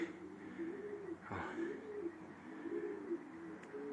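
At night a pigeon lands on the roof of a dovecote and gives a soft, repeated low cooing that runs through the whole stretch, with a brief flutter or thump near the middle, faint against the outdoor quiet.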